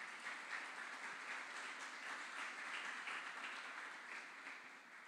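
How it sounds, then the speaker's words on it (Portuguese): Applause welcoming a guest at a church gathering, a soft, distant and even patter of many hands that sustains throughout and eases slightly toward the end. "queria que você o recebesse com uma salva de palmas"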